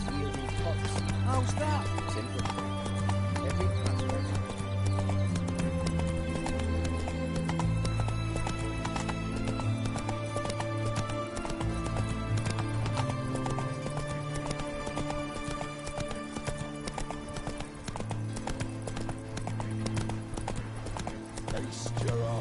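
Hooves pound at a gallop as Roach runs in The Witcher 3, a loud continuous clip-clop with a neigh, mixed with game music and someone talking over it.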